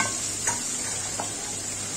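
Mango pickle and fried garlic are stirred in a pan, giving a close, steady sizzle with a couple of soft scraping strokes of the spoon against the metal.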